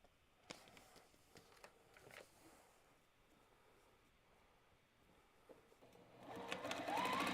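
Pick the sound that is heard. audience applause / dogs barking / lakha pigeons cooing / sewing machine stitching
sewing machine stitching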